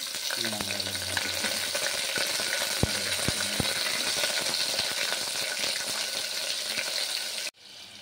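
Whole spices and bay leaf sizzle steadily in hot ghee for a veg biryani, a continuous bright crackle with a few sharp clinks of a utensil against the pan, ending abruptly near the close.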